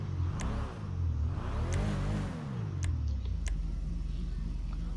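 Engine of the Elegy Retro Custom car in GTA V revving up and down in two long swells, then settling to a steady idle hum, loud and close, with no speech.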